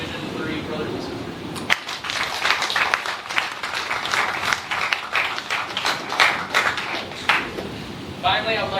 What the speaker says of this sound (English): A round of applause for Chief Graber and his outstanding support